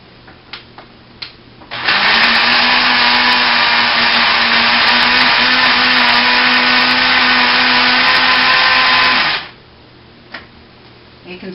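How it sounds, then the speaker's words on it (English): A blender whirs steadily for about eight seconds, blending white chocolate fudge to a creamy finish, starting and stopping abruptly amid quiet kitchen clicks. "the blender does it a lot quicker and very creamy"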